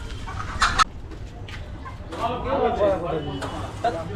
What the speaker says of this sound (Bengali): এসছি নেপালগঞ্জে দেশি মুরগি নিতে